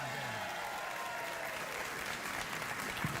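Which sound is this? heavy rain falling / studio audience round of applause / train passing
studio audience round of applause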